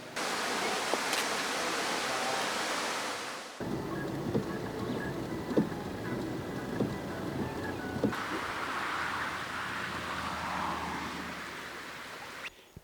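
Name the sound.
heavy rain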